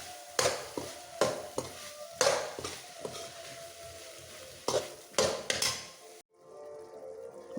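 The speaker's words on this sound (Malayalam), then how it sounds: "ഇനി പിഴിഞ്ഞ് വെച്ചിരിക്കുന്ന സോയ അങ്ങോട്ട് ഇടാം. ഇട്ടൊന്ന് ഇളക്കി" Squeezed soya chunks being stirred in a frying pan for a soya paneer pepper fry, with repeated scraping strokes over a steady sizzle and clinks of utensil on metal, then the sound drops away abruptly near the end.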